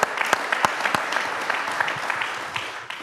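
Conference audience applauding a speaker, steady dense clapping with a few sharp individual claps standing out near the start, fairly loud and continuous throughout.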